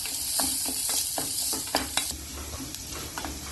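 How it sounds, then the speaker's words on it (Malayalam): Steady sizzling of moong dal frying in ghee with repeated scraping strokes of a spoon stirring it in a pan, close and continuous, no voices. "ഇത് ഒരു 1-2 മിനിറ്റ് ഇളക്കി വറുത്തെടുക്കാം"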